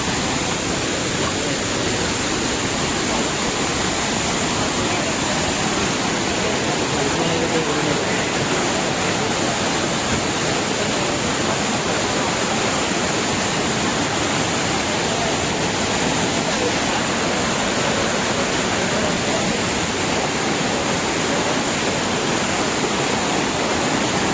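Two waterfalls at Machi roar steadily throughout, a dense, continuous rush of falling water with no letup.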